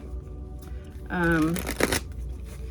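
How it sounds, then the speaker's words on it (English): A tarot deck is shuffled in a quick burst of riffling card flutter, close and brief, with a voice talking before and after. "I will just do all this shuffling now"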